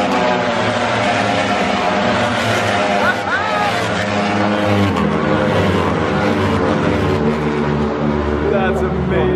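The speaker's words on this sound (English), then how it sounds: "when the bikes come by, the V4s are nice and high pitched, and then the V2s have this low growl to them" Ducati racing motorcycles, a mix of high-pitched V4s and low-growling V2s, pass by continuously at a race during World Ducati Week, with loud engine whine sweeping over steady crowd and track noise throughout.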